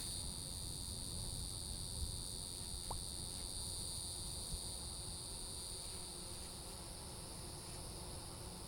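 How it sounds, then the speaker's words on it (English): Cicadas and bees in the Vintage Story video game: a steady high shrill cicada drone runs throughout over a low, constant buzzing hum, with a faint click or two, continuous and even. "Apart from the cicadas, there are bees."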